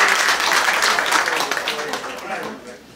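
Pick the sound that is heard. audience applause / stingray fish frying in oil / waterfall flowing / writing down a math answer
audience applause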